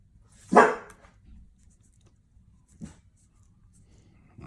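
A dog barks once, loud and close, followed a couple of seconds later by a softer second bark in an otherwise quiet indoor room.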